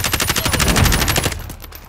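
Rapid automatic gunfire in Call of Duty Warzone, a fast evenly spaced burst of close, loud shots with sharp cracks that stops abruptly near the end, leaving a fading tail.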